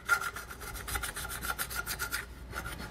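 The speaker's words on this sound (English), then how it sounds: "I'll just grab my scraper and remove this extra sealer" A hand scraper rasps excess sealer off a bumper surface during a trailer hitch install on a 2021 Chevrolet, making a quick rhythmic series of close, gritty scraping strokes with a brief pause before a few final passes.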